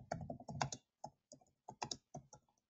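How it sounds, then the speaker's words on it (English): Typing on a computer keyboard, close and quiet, with irregular bursts of key clicks separated by short pauses. "you can type in whatever you want"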